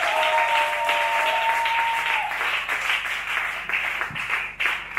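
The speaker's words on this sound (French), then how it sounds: "si tu peux acclamer très très très fort" A church congregation applauds loudly, dense sustained clapping from a large crowd that holds steady throughout, with a brief tone fading in the background early on.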